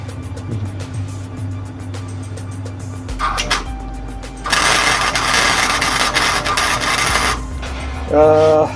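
Welding torch tacking a Type 4 EMPI muffler, a loud hissing crackle lasting a few seconds amid background hum and handling noise.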